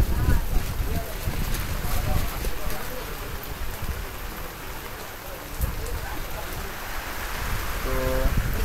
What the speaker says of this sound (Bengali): পাশাপাশি হচ্ছে বৃষ্টি নামতেছে।